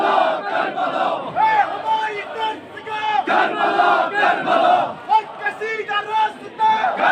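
A large crowd of Muharram mourners fills a big gathering with continuous massed chanting and rhythmic, swelling voices, loud and close, with no single speaker standing out.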